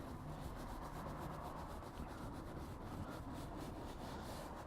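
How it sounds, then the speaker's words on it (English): Brush bristles scrubbing dirt from the holes of a car door speaker grille, a close, continuous rhythmic scratchy rubbing with regular back-and-forth strokes. "just want the tips of the bristles to enter the holes and take off any dirt or grime"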